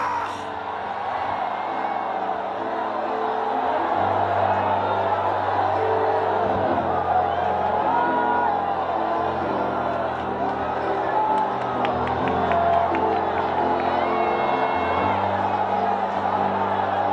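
A Pentecostal church congregation shouts and cheers in praise, a sustained roar of many voices with whoops and yells rising together and holding loud throughout.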